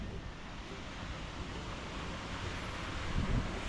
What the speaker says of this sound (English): We did go to Waialua Falls.